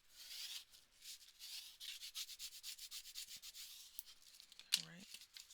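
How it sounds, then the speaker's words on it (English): Paper on both sides of a handmade book is burnished with a tool, giving close, rapid rubbing strokes in a steady rhythm that end with a short squeak. "Just burnishing on both sides."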